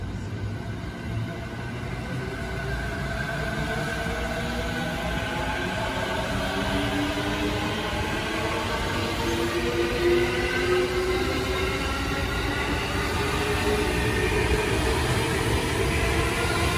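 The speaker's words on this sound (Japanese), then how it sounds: "まもなく1番線を列車が通過します。" A train on the JR Sotobo Line rumbles through Honda station without stopping, a loud, continuous clatter of wheels with rising and falling whining tones.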